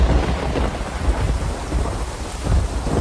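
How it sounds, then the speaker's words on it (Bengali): A cartoon-style thunderstorm effect: loud, continuous rumbling thunder under a steady wash of heavy rain, dense and close for its brief length. "এই যা, বৃষ্টি যে চলে আসছে"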